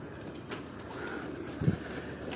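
Breeder pigeons coo on a Lahore rooftop in Gulberg, one soft low coo rising briefly above a steady hum of distant outdoor background noise.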